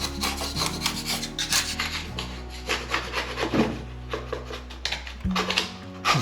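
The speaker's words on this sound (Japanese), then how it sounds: "時間を置いてはみ出したアルテコをスクレーパーで削ぎ取ります。" A scraper shaves excess cured Alteco adhesive off a repaired washroom floor patch beneath a vanity unit, giving close, continuous rasping strokes with gritty rhythmic pulses and a low steady drone underneath, with no talking.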